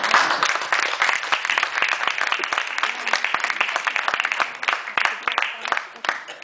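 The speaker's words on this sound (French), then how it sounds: "qu'on applaudit très fort ici présent" Audience applause for the Dorina Fower theatre company at the opening of a performance venue in Vernouillet: dense, sustained clapping from a seated crowd, steady and moderately loud, thinning slightly toward the end.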